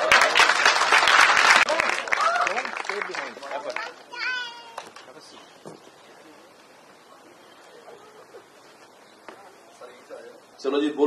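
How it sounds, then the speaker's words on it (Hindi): Crowd applause bursts loudly at the start of a music event, then fades within a few seconds into quieter crowd murmur and scattered sounds, with a brief swell of clapping returning at the very end. "एक बार जोरदार तालियां।"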